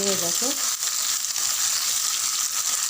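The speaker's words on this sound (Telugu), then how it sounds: "రెండు రెమ్మల కరివేపాకు ఆనియన్ పచ్చిమిర్చి ఫ్రై" Curry leaves, onion and green chillies fry in a pan for an okra tomato curry. A dense, close sizzle continues throughout, with a brief voice-like sound at the very start.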